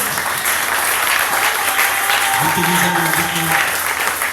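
A church congregation claps together in sustained, dense applause that fills the room at an even level throughout, with a few voices mixed into the clapping.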